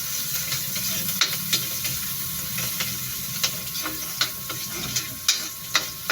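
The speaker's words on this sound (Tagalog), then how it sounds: "Haluin lang ulit." Garlic frying in a pan makes a constant hissing sizzle, while a spoon stirs it in regular scraping strokes and taps against the metal. The sound is close and steady, with no voices.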